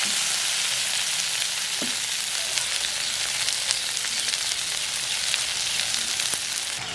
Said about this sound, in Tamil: இதுக்கெல்லாம் பச்சை மிளகாய் எல்லாம் போட்டு எல்லாத்தையும் வதங்க விடுவோம்